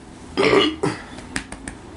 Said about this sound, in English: I need a burp.